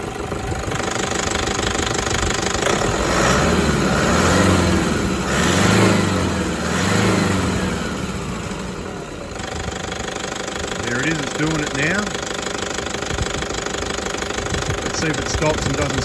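Toyota 1KD-FTV D4D diesel engine idling with an irregular knocking that fades in and out over its rough idle, close and loud, with voices talking over it.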